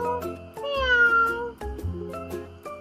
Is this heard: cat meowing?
yes